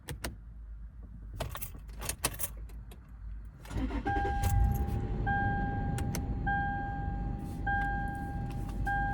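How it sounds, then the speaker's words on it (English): A car is started after keys jangle and clink near the mic, then the engine catches and settles into a low idle while a repeating electronic warning chime pings at a steady rhythm. "I had to turn on the car."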